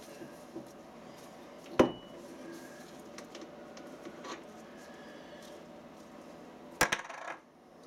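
Metal change gears of a lathe set up for 6 TPI screw cutting are handled, giving two sharp metallic clinks several seconds apart against a quiet workshop background.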